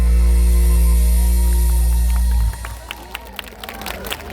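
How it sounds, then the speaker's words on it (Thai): At a Thai mor lam show during a kathin merit-making festival in a Saraburi village, booming music cuts off and a scattered outdoor crowd begins clapping, with distinct claps and voices spread over the last two seconds. "ขอบคุณเสียงปรบมือนะคะ"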